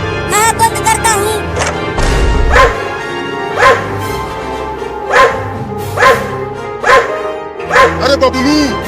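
In a Hindi children's cartoon about kittens and milk, cartoon dogs bark in a steady string of loud, evenly spaced woofs, roughly one per second, over a low background with brief voices near the start.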